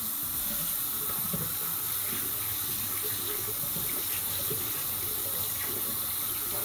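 Water running steadily from a tap into a sink while comparing shaving soaps, a constant close splashing flow with no talk.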